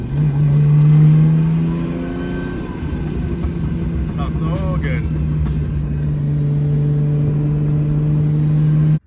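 A car with a 2JZ engine driving at normal pace gives a loud steady engine drone with a low hum and faint whine, while someone talks over it before it cuts off abruptly.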